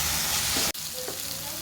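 Fried elephant foot yam pieces go into a hot oiled pan, giving a steady close sizzle with a sharp break partway through as the pan is stirred, and no voices.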